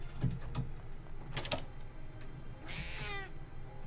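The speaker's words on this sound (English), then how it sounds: "Okay, so there's a kitty in here somewhere." A cat meows in a video game, a clear close meow near the end after a few soft taps and clicks.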